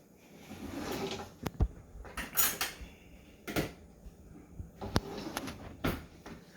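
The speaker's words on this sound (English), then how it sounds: "And we can also get out a knife." A kitchen drawer is rummaged to take out a knife: soft rattles, clinks of metal cutlery and a few sharp knocks spread irregularly, close and fairly quiet with no talking.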